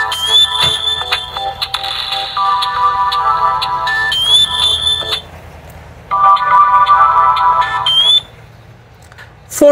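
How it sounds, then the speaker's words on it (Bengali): Ringtone melody from a Qphone button phone, loud and close, with repeated bright electronic tones in two bursts separated by a brief quieter gap. "নতুন করে একটু রিংটোনের শব্দটা শোনাই"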